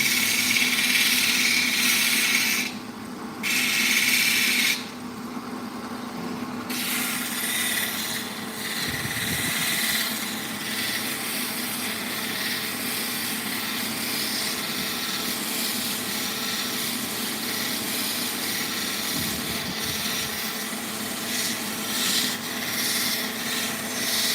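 A cabbing wheel grinds and polishes a Lake Michigan rock, giving a steady, close, continuous whirring rasp over a low motor hum, with a couple of brief dips in the grinding and no talk.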